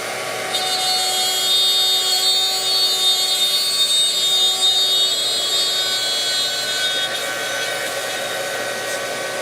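Shaper Origin handheld CNC router cutting material for tambour doors, a steady loud high-pitched whine with a hissing motor tone that holds evenly throughout, close by and alone without talk.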